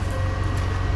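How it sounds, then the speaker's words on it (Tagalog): Cooling blower of a hybrid solar inverter running with a loud, steady droning whir and low hum, constant and close throughout with no talking. "yung tunog ng blower maingay"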